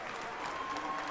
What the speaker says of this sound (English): I'm giving them a clap.